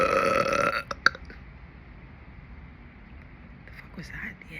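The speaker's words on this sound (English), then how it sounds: "Sounded like a little hiccup attached to the burp." A single close, loud burp that ends in a small hiccup-like catch, followed by quieter room noise.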